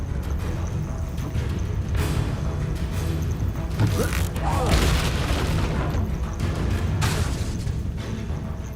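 A Confringo spell explosion in Hogwarts Legacy gameplay, with a booming burst around the middle amid continuous game noise and clattering effects, a spoken voice briefly under it.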